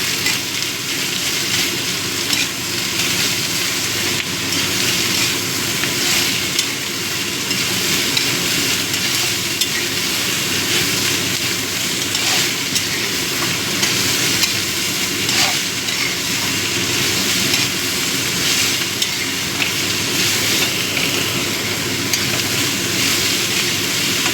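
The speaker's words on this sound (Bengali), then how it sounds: "এবার সব কিছু দিয়ে ভালো করে মিশিয়ে নেব।" Grated radish for mulo ghanto is stirred and fried in a pan, giving a dense, unbroken sizzle with faint stirring scrapes that hold at an even level for the whole stretch.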